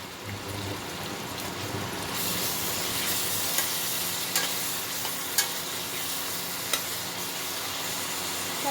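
Onion paste sizzles and fries in a pan for chicken kosha, a steady close hiss that grows brighter, broken by a few sharp stirring clicks.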